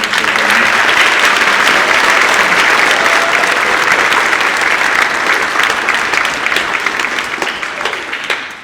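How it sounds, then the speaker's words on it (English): Loud, sustained audience applause at a middle and high school fall band concert, thick clapping filling the room, then gradually thinning toward the end. "So if you could please give a round of applause for any of those individuals."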